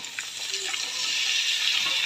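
Pumpkin pieces for a pumpkin poriyal tipped into a hot frying pan give a steady, fairly loud broadband hiss of sizzling moisture that holds for about two seconds, with no talking.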